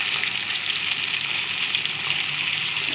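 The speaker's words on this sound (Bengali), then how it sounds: "মাছটা আমি হাফ করে ভেজে নেব।" Steady, loud sizzling of fresh fish half-frying in hot oil in a pan, a continuous bright hiss with no breaks and no voices.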